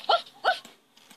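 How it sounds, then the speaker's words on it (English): A little puppy gives two quick, sharp yaps close by, then a few fainter trailing yips fade into quiet. "The little puppy barked"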